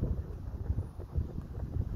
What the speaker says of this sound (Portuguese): O vento tá muito forte, mano.